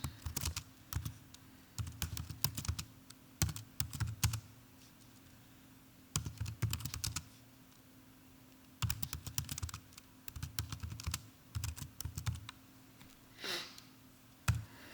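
Someone types a sentence on a computer keyboard in short bursts of quick clicky keystrokes separated by pauses, quiet and close with no talking.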